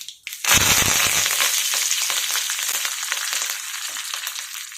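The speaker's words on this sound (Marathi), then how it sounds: "तेल तापलं की याच्यामध्ये 1 टीस्पून मोहरी आणि अर्धा टीस्पून जिरं. याच्यामध्ये आपण कढीपत्ता टाकून घेऊयात" Mustard seeds, cumin and curry leaves hit hot oil with a sudden loud burst of crackling and popping, then settle into a dense, steady sizzle close by.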